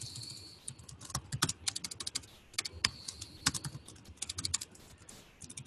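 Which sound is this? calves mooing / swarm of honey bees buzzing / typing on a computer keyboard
typing on a computer keyboard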